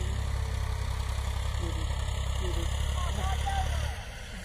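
A tractor engine runs steadily in a village field, a loud continuous low drone that eases off near the end, while a person talks over it.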